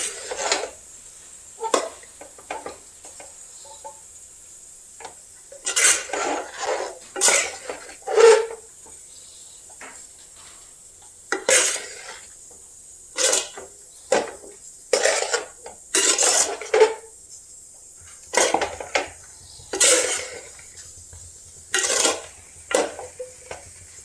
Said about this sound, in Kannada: ನಾನೀಗ ಮಿಕ್ಸ್ ಮಾಡ್ಕೊಳ್ತೀನಿ